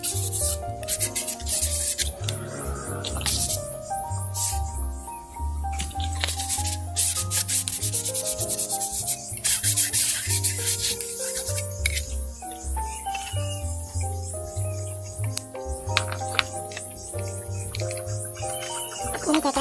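Steady rasping and rubbing strokes, close and continuous, from a file smoothing holes in a plastic pipe flute, with faint musical tones in the background.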